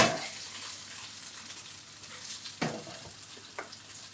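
Homemade gnocchi fry in a hot pan with a steady, soft hiss, broken by a couple of brief stirring scrapes or clatters. No one speaks.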